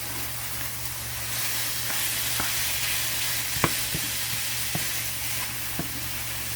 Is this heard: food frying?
yes